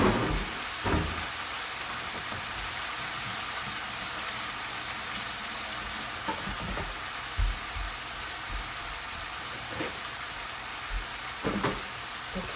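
Marinated chicken fries in a very hot pan, a dense continuous sizzle and hiss with occasional soft knocks and stirring sounds, close and steady, with no voices.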